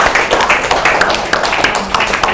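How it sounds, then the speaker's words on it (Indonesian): Students in a classroom clap together for a classmate, a close, lively burst of many overlapping hand claps forming a steady patter throughout. "Tepuk tangan untuk Nanda."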